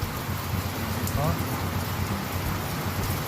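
Heavy rain pours down steadily in a windy storm at a pigeon loft, a dense loud hiss with close spattering on surfaces, while someone talks briefly over it.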